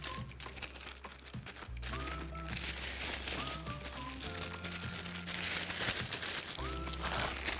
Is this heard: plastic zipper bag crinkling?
yes